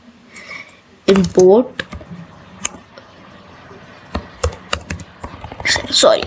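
Python code being typed on a computer keyboard in a Jupyter notebook: close, uneven bursts of key clicks separated by short pauses.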